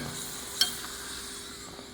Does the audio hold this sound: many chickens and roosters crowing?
no